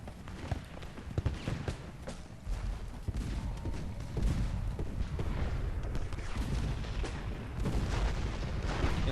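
Cavalry gunfire in Ultimate General: Gettysburg at McPherson's Ridge, a continuous clatter of scattered rifle shots and low booms over a dense battlefield din, with hoofbeat-like thumps mixed in.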